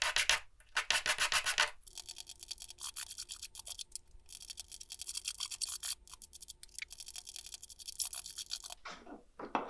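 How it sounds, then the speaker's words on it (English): Small wooden cubes are lightly hand-sanded, a soft close scratching rub in repeated strokes with short pauses between passes and no talking. "just a light sanding on all sides and breaking the edges slightly so they won't splinter later on"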